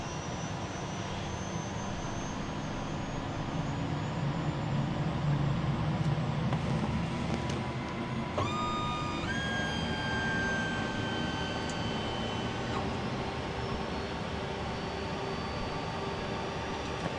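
A Cessna Citation CJ3+ jet engine spooling up at start, a rising whine building steadily over a constant low rumble, with tones sweeping higher partway through as the turbine gains speed.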